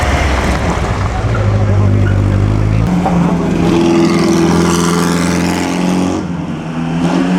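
OSCA race car at the 2015 Mille Miglia, its engine roaring loudly and continuously as it revs and drives past close by, with pitch shifting as it passes and other engine noise blending in.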